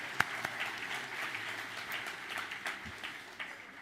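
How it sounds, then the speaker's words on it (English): Audience applause fills the room at a live talk, a steady wash of many hands clapping at moderate loudness with a few sharper close claps, no voices over it. "So give a round of applause for yourself."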